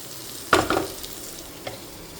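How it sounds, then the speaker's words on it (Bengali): Eggplant, pumpkin and potato pieces frying in a pan give a brief burst of stirring and sizzling, two quick scrapes close together, then a faint clink over a quiet background hiss. "আমি সমস্ত সবজিগুলোকে একটু ভাজা ভাজা হতে দিয়ে দিলাম"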